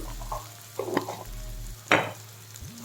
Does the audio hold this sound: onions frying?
yes